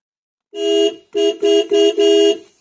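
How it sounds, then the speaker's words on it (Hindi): A car horn honks five times close by: one long blast followed by four shorter, quick toots. "इसलिए हॉर्न ही मार दिया पूजा देने के बाद"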